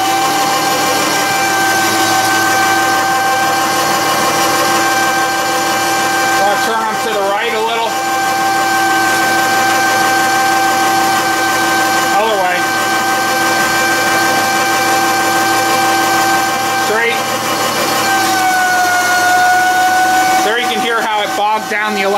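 A garden tractor's engine runs steadily as it climbs a wooden ramp onto a work table, a loud continuous drone with slight pitch shifts. A person talks over it throughout.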